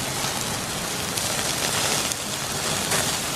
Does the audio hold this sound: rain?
yes